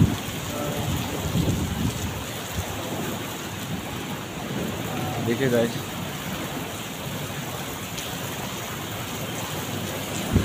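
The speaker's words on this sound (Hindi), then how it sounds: "बस इतनी तेज बारिश हो रहा है, तूफान चल रहा है" Heavy rain pours steadily with stormy rumbling in the background during a storm, while a person speaks briefly over it.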